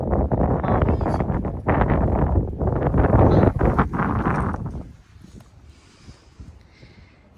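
Strong wind buffets the microphone outdoors near a pride of lions in a loud, continuous roar that drops away abruptly, leaving quieter rustling and faint background sounds.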